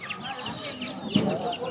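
Fighting rooster at a poultry market on Broadway, Chennai, giving a few close clucks amid busy market noise, with faint voices in the background.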